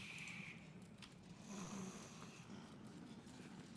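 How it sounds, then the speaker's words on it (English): Snoring from a sleeping character in the video game Baldur's Gate 3, a steady low rasping drone with a couple of louder breaths, running continuously through the game's ambient sound with no talk. "Love all the snoring noises you hear."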